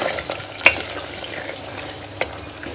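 Meat and tomatoes fry in a pan for a Hyderabadi meat gravy, a steady close sizzle broken by a couple of sharp clinks as the mixture is stirred.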